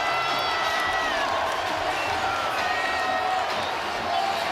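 A college basketball arena crowd at Georgia roars and cheers in a loud, sustained wash of noise during an SEC men's game against Tennessee, with whoops rising above it.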